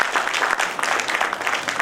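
Audience at an awards ceremony clapping in a steady, dense burst of applause from many hands, close and lively throughout the short stretch.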